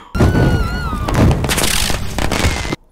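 Cartoon explosions in the Kung Fu Panda 2 animated film, a run of loud booming cracks and thuds mixed with whistling streaks and crackle like fireworks, ending in sudden quiet.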